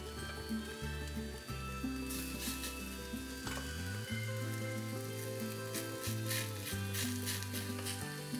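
Continuous bright sizzling of a potato rosti frying in a pan, steady and close, with a low tonal hum running underneath.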